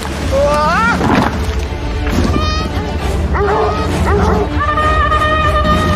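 Dogs bark and yip in a chase, sharp rising barks repeating through a few seconds over a steady engine drone and background noise.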